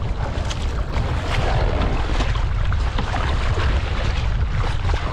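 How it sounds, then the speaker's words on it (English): Steady wind and rolling open-sea waves around a kayak off Thassos, Greece, a loud continuous rush of wind and water that fills the whole stretch with no voices. "Bigger waves, same wind, I would say."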